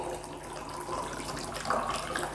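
Water pours steadily into a container for soaking vegetables such as okra and tomatoes, giving a continuous, close, splashing rush with a brief brighter gurgle midway and no voices.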